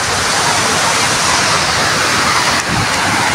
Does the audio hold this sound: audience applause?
no